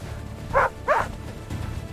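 Two short barks from a dog, close together, over a low steady background hum.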